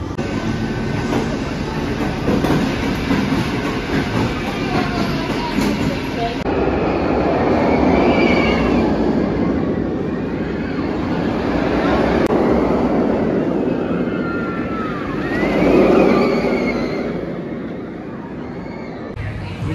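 A ride on the Afterburn roller coaster, once called Top Gun, at Carowinds: a loud, sustained rumbling roar with rattling track noise that swells and fades for the whole twenty seconds, with a few voices mixed in.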